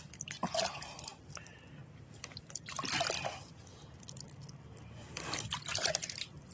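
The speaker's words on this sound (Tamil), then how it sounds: "கையில் மட்டும் தண்ணியை மோந்து அப்படி தெளிச்சு வரேன்" Water scooped by hand and sprinkled over freshly sown greens (keerai) seeds in soil, heard as three soft, close splashing bursts of droplets spread across a few seconds, with no talk.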